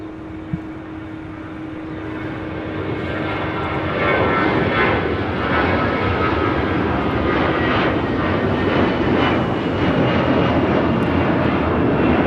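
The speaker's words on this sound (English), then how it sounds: "This is Air Canada 788 taking off to Toronto on an A321 in the Star Alliance livery." An Air Canada Airbus A321 jet takes off at LAX. Its broadband engine roar builds to a loud, sustained rush and stays steady, with no voices.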